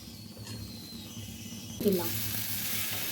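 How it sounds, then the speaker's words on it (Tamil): Ragi dosa batter with egg poured onto a hot pan starts a sudden sizzle partway through, a brief splatter followed by a steady, even hiss that continues to the end, close and moderately loud. "சூடாகிடுச்சு. இப்போ நம்ம தோசை ஊற்றிடலாம்."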